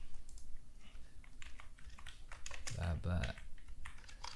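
Typing on a computer keyboard, a steady run of quick light key clicks at close range while someone speaks French over them.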